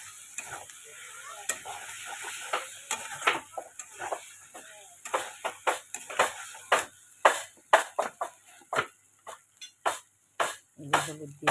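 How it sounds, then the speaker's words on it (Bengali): Spices sautéed and stirred in a pan, a faint sizzle under repeated scraping strokes of a spoon that grow quicker and more rhythmic toward the end, with brief soft voices in the background. "তো এবারে কষাবো ভালো মতো।"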